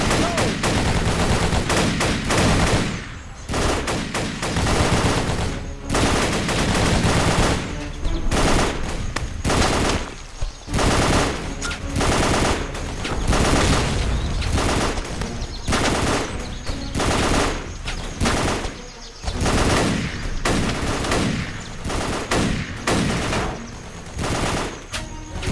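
Sustained machine gun fire in the video game Battle for the Pacific, loud close bursts of rapid shots repeating with brief gaps throughout, with occasional shouted voices under the gunfire.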